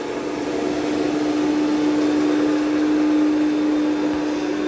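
A Yeedi M12 Pro robot vacuum and mop runs with a steady, even motor hum and a constant tonal whine, close by and unbroken throughout.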